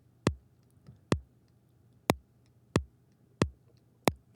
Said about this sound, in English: So I can play to the click track.